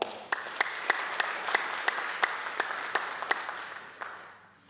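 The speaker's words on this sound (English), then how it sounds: "let's give our inductees another warm round of applause" An audience applauds at a hall of fame induction ceremony, a steady round of clapping with a few sharp individual claps standing out, fading toward the end.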